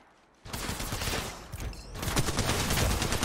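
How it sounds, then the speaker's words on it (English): Automatic gunfire in the video game Apex Legends, beginning abruptly after a quiet moment and continuing as dense, loud, rapid bursts of close shooting. "I'm taking fire."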